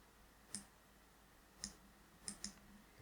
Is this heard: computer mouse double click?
yes